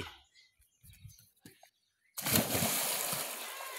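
A boy leaps into a village pond with a sudden loud splash and churning water after a few moments of quiet thuds and rustling nearby, no talk.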